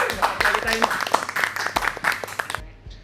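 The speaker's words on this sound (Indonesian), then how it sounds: "Oke, tepuk tangan dulu dong." An audience at a youth political talk show gives a short burst of applause mixed with voices and whoops, fairly close and loud, cutting off abruptly near the end.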